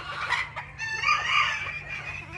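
Show hens cluck and call in quick bursts at close range, rising and falling over a low background hum with no one talking.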